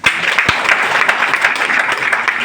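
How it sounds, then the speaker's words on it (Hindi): Loud, close audience applause at a DXN business success seminar, dense continuous clapping with a few sharper individual claps standing out. "उनके लिए एक जोरदार ताली"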